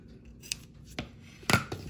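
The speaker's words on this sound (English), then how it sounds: "going to clip it just a little bit more and then a little bit towards each seam" Scissors snip into fabric at the seam allowance of a t-shirt being sewn, a few quick separate clips spaced apart, close and fairly quiet with no talking.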